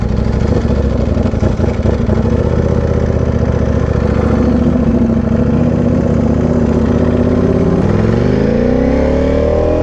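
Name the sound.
Ducati Panigale V4R motorcycle engine idling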